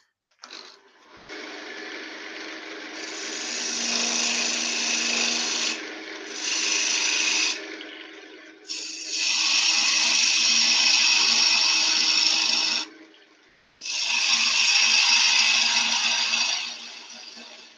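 A skew chisel cutting wood on a spinning lathe in a turning shop produces loud, steady, close scraping and whirring in four sustained passes, with brief pauses between them.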